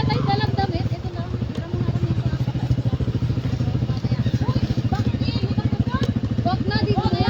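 A motorcycle engine idles close by with a steady, pulsing chugging rhythm while it is being parked beside a river, with people talking over it throughout.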